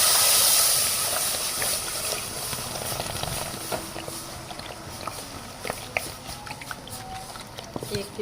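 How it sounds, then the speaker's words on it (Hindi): Milk poured into a hot pan of caramelised sugar for rabri, giving a loud initial hiss of steam that settles into a bubbling, crackling simmer, with someone talking over it. "अब इसमें हम दूध डाल देंगे।"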